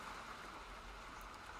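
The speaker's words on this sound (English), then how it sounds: "Apologies if you can hear the rain." Rain falls steadily on a cricket pavilion roof during a rugby broadcast, a constant broadband hiss that stays even and fairly faint throughout with no voices.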